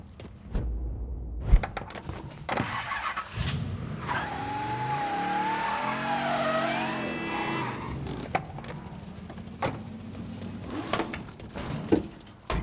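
A car in the Mafia III video game pulls up, its engine revving and whining as it approaches, with tire squeal and skidding, then settling into a door clunk and small impacts, with no voices.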